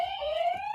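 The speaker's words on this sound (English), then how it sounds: "His buzzer is just better." A quiz-game buzzer rings in during a podcast game, giving a brief, steady electronic tone that holds for under a second.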